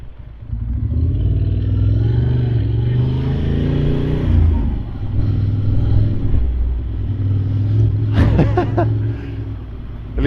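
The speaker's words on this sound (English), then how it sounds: "I cannot do those, such a low speeds on second gear, on that Ducati with the, with the set of sprockets I have right now" A Ducati motorcycle rolls slowly in second gear around town, its engine holding a steady, loud, low-revving drone close by, with a brief clattering rattle near the end and no clear talk.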